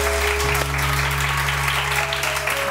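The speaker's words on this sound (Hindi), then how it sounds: "बहुत सारी तालियां रानिया आपा के लिए" Studio audience applause for a guest on a Pakistani morning show, a steady dense clapping that fills the whole stretch over a low constant hum, with no voices breaking through.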